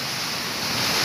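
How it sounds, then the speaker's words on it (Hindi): Heavy rain pouring down steadily outdoors, a dense close hiss of falling water with no voices. "ये देखिए कैसा बारिश हो रहा है,"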